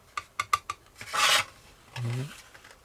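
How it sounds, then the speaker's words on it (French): Sanding a part of a Tamiya Porsche 934 1/12 scale model kit: four quick raspy strokes, then a longer bright scrape and a lower rubbing pass, close and fairly quiet with no talk. "Encore à poncer en dessous là."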